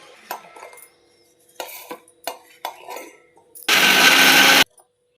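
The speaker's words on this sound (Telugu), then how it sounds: "ఈ మసాలా ముద్దలో ఉలవలు వేసి రుబ్బేస్తున్నాను." A kitchen mixer grinder blends horse gram into a green chilli masala paste in one loud, steady burst of about a second. Scattered clinks of utensils come before it.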